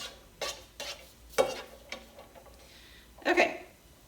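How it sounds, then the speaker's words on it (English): Onions cooking in a pan for turkey stuffed peppers, heard as a low sizzle broken by a few sharp stirring scrapes and clinks, with a louder burst of stirring near the end. "just going to cook the onions enough until they're translucent"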